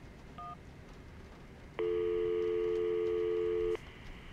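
A telephone in the Syberia adventure game sounds a short tone blip, then after a pause a steady two-tone ring burst lasting about two seconds, clear against quiet room noise.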